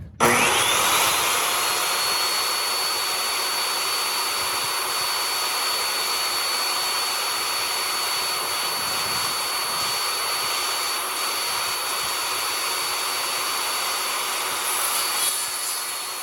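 A power saw cutting through the rotted, broken ends of boards for a shed build, a loud continuous high whine and rasp held steadily for the whole stretch, close by with no speech.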